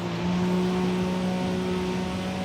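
A turbocharged JDM car engine in the Forza Motorsport racing game drones at sustained high revs, a loud, steady, tonal roar with a whining edge and no speech.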